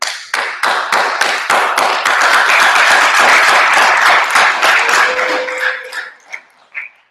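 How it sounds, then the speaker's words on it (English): One person claps hard and fast at a live recorded candidates Q&A, loud sharp slaps in a rapid steady run that ends in a few scattered claps as laughter and voices follow. "How loud I can clap."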